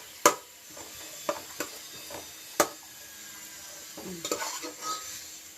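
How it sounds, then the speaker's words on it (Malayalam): Chicken fries in a pan for Arabic mahduth, a quiet sizzle underneath several sharp knocks and scrapes of a utensil against the pot, heard close and alone. "അതിനകത്ത് വെള്ളമൊക്കെ പോട്ടെ, ചൂടാട്ടെ. മൂക്കട്ടെ, നന്നായിട്ട് മൂക്കട്ടെ."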